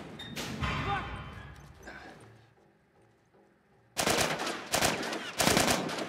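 Loud shotgun blasts and gunfire in The Last of Us video game, a heavy opening shot with a decaying tail, then several sharp, rapid reports close together after a brief lull.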